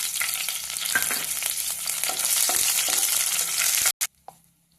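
Green chillies drop into hot oil in a pan and fry with a loud, dense crackling sizzle lasting about four seconds before cutting off abruptly, then a couple of faint pops and clicks.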